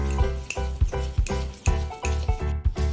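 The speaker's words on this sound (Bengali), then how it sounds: "দেখেন কোকো পাউডার দিয়ে আমি এটাকে মিক্স করে নিলাম।" A spoon repeatedly stirring and scraping thick cake batter with cocoa powder in a bowl, a quick rhythmic series of close wet knocks and swishes.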